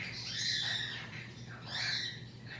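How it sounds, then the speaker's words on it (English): A pet Amazon parrot gives two short, raspy squawking calls in a house, moderately distant and fairly faint over a low background hum. "One of my other Amazons is talking."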